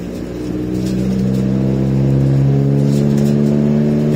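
Iveco Daily 35-8 van with a custom-fabricated exhaust droning at low revs, a deep, loud, organ-like engine note that builds slightly and then holds steady, close by, with no talk.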